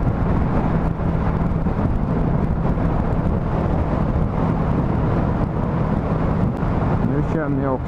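Loud, continuous wind buffeting roars past a rider on a moving motorcycle, a constant broadband rush with a low engine hum underneath and a brief whining tone near the end.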